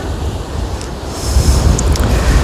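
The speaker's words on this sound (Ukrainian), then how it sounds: "Ого, вітер який наверху. Та біля моря, напевно, теж такий." Strong wind gusts buffet the microphone on an Odesa beach in winter while sea waves surge and break nearby, the roar growing louder and fuller midway through.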